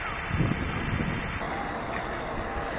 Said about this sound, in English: But it's cold and windy.